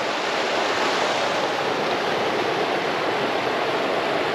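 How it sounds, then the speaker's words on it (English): A small fellside waterfall rushes with a steady, dense broadband roar that stays close and constant. No voices break the unbroken splashing. "Otherwise, this is the waterfall, this bit here."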